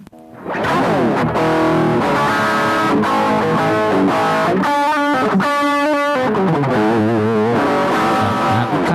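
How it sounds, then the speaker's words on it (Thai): Heavily distorted electric guitar roars through a Peavey Studio Pro 110 amplifier, chugging chords and bending notes with a gritty, loud, continuous tone and no voices. "เสียงแตกครับ distortion"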